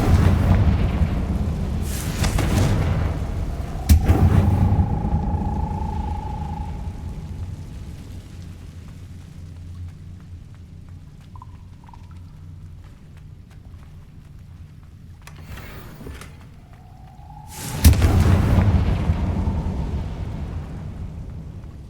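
Explosive fire spell blasts in the Hogwarts Legacy video game, two loud booming bursts several seconds apart with rumbling tails and a rising whoosh after each.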